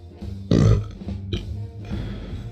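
A loud, drawn-out cartoon burp bursts out from an animated Five Nights at Freddy's style blooper, followed by a shorter second belch and rumbling noise trailing off.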